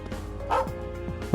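A dog barks in the video game Trails of Cold Steel, a short close yip followed by a couple of softer, higher woofs over a faint game background hum.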